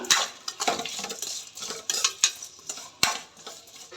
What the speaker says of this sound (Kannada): ರುಚಿಗೆ ತಕ್ಕಷ್ಟು ಉಪ್ಪು ಉಪ್ಪನ್ನು ಹಾಕಿಬಿಟ್ಟು ಇದನ್ನು ನೀಟಾಗಿ ಮಿಕ್ಸ್ ಮಾಡೋಣ